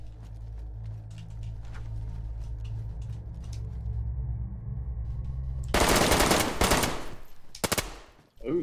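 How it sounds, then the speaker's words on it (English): Gunfire in the survival shooter DayZ: a quiet stretch of low rumble, then a loud, rapid automatic burst close by, followed by a shorter second burst. "Jive, you shot me."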